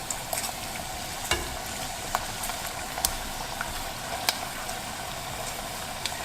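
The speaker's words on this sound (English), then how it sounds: "stop hearing that little fry type noise, or it slows down" Chicken skin frying in a pan, a soft continuous sizzle with occasional sharp pops and crackles, close by and with no talking.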